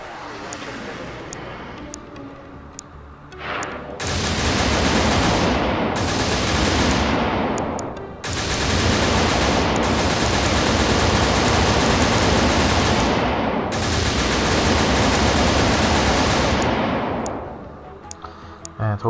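Sustained machine-gun fire aimed at a battleship in the video game Battleship Tanks Three, loud broadband bursts lasting several seconds each with brief gaps between, over a low game background.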